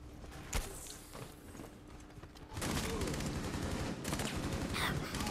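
Gunfire in Rainbow Six Siege gameplay, a sharp shot followed by a sustained burst of rapid fire in the second half, fairly close over a low game background, no speech.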